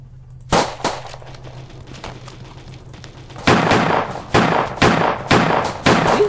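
Video game gunfire cracks out in sharp, loud reports: a couple of isolated shots early on, then a rapid series of five or six heavy blasts in the second half over steady background noise.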